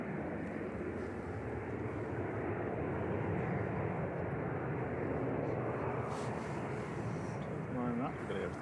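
A Loganair ATR 72-600 turboprop airliner arrives at Manchester Airport, a steady, moderately loud engine drone that swells slightly in the middle, with a voice briefly heard near the end.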